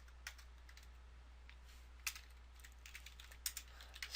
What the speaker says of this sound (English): I could highlight that information and just simply type 12-month sales chart